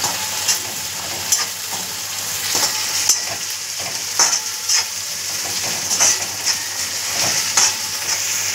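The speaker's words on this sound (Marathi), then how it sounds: "आता यामध्ये मी टोमॅटो टाकते। टोमॅटो पण आपल्याला छान भाजून घ्यायचं आहे।" Tomatoes frying in a pan with browned onion for a fenugreek garlic dish, a steady sizzle with scattered stirring scrapes and clicks, close and fairly loud, with no talking.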